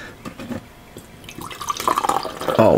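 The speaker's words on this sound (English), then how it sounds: "Alright, let's pour it out." Rockstar Energy Boom Whipped Strawberry drink pours into a glass, starting with scattered drips and building to a loud, steady splashing fill that rises toward the end.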